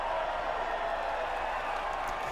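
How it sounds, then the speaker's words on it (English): A steady, dense roar of crowd cheering and applause greets a podium ceremony in the F1 2019 racing game. It holds even and continuous throughout. "the reaction from the crowd must be incredibly uplifting for them"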